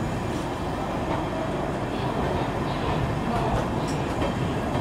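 The Tatanagar–Amritsar Jallianwala Bagh Express pulls away from a station platform with a continuous broadband rumble of wheels and rolling stock, loud and close, with faint scattered clicks and no talk.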